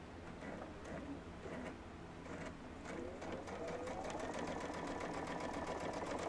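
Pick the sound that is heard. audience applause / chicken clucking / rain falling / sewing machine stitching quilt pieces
sewing machine stitching quilt pieces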